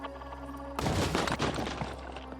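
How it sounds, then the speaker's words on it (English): A grenade detonates in the Phoenix Point turn-based tactics game, a sudden loud blast over a low ambient drone, followed by roughly a second and a half of crackling, rumbling debris that slowly fades. "Let's lob a grenade at it."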